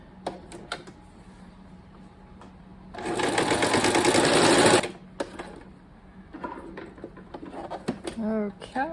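Sewing machine stitching wide fabric strips, running in one steady, loud burst of about two seconds between stretches of quiet handling noise and light talk.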